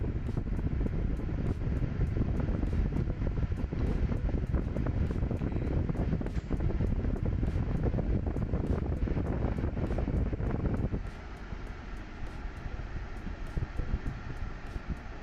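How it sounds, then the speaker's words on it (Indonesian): Air conditioner fan in a Nissan Magnite, a steady close rushing blow of air that fills the cabin, dropping to a softer setting near the end, with faint clicks throughout. "Ini untuk pengambilan udara dari luar, ya, berfungsi dengan baik."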